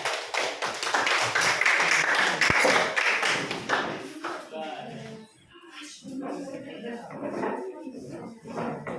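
Students applaud after a group finishes its class presentation, with a dense burst of clapping over the first few seconds that thins out, then voices talk in the room.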